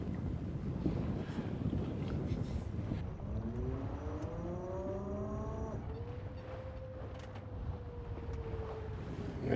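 A Kraken 58 sailing yacht moves under full sail in light wind, with steady wind and water rush around the hull and a few rising and falling whining tones from the rigging or gear, fairly close.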